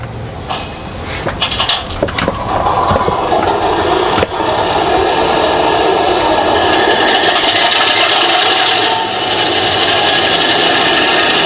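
An Accurascale GCR 1940s model locomotive's sound unit starts with a few clicks and rasps, then settles into a steady, hissing mechanical running noise close by.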